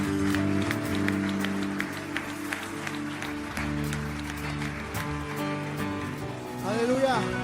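A church congregation applauds during a Spanish-language worship service, the clapping mixed with sustained organ-like music and a voice speaking over it, steady and fairly loud throughout.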